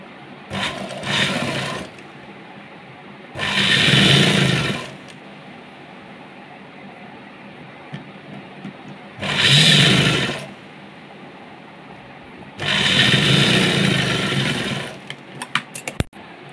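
A sewing machine runs a basting stitch on a top in four bursts of steady whirring, loud and close, separated by quiet pauses with faint fabric handling and a few small clicks at the end.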